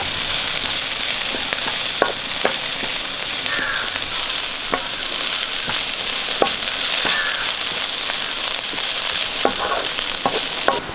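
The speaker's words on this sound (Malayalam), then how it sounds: "വറ്റൽമുളക് ചെറുതായിട്ട് അരിഞ്ഞെടുത്തിട്ടുണ്ട് അത് നമുക്ക് ഇട്ട് കൊടുക്കാം രണ്ട് രണ്ട് കറിവേപ്പില ഇടാം നല്ലപോലെ വഴറ്റി കൊടുക്കാം" Chopped dried red chillies and curry leaves sauté in hot oil in a pan for onion chicken, a dense, constant sizzle broken by occasional sharp clicks of a spoon stirring, with no voices.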